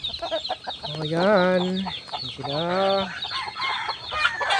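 Red junglefowl and chickens clucking and calling nearby, with two long drawn-out crowing-like calls in the middle over continuous bird chatter, and a voice speaking briefly.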